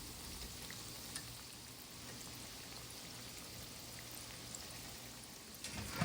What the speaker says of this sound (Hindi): इसे हम डीप फ्राई कर रहे हैं, और इसे हम हल्का सा गोल्डन ब्राउन करेंगे।